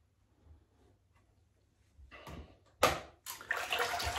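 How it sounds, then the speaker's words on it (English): Water splashed by hand onto a face before a wet shave, starting as faint trickles and then building into loud, close splashing and sloshing bursts that continue to the end. "we'll wet the face and then get on with the shave"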